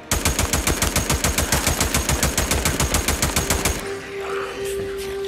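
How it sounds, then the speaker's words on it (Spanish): Rapid automatic gunfire in the video game Days Gone, a loud, close stream of evenly spaced shots for several seconds that stops abruptly, followed by quieter game ambience. "lo que queda me tengo que liar a tiros con ellos"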